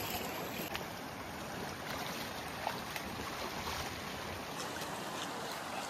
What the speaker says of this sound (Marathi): मागं बघितलं तर पूर्ण या ठिकाणी धबधबा चालू आहे.